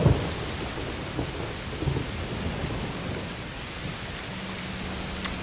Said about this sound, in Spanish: Llueve mucho, ¿eh? Será una tormenta de calor.